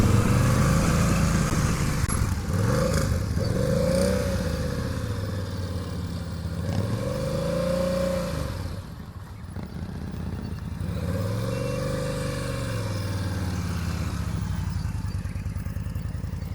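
Motorcycle ridden at slow speed through tight turns during an advanced slow-speed skills practice session in Georgia, its engine droning steadily with repeated rising and falling swells as the throttle and clutch are worked, heard close and continuous.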